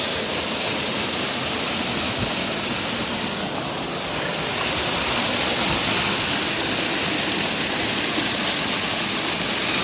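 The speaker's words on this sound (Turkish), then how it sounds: "Acısu'daki meşhur şelale burası arkadaşlar." Waterfall on Acısu stream seen from its top, about 3-4 metres high, giving a loud, steady broadband roar of falling water that fills the whole stretch without pause.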